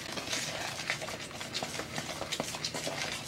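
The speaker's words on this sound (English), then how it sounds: "take your cake mix here, and we're going to fold this into this butter" Cake mix folded into melted butter for a peach cobbler crumble, soft close scraping and light wet stirring taps in an uneven rhythm, faint and alone.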